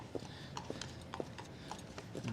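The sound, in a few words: horses' hooves clip-clopping past in Central Park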